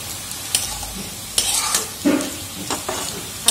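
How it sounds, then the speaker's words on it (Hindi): Potato nugget mixture being stirred with salt, with soft scraping, a few clinks of a spoon against the pan and a faint sizzling background, close and moderate, no one speaking. "just mix it"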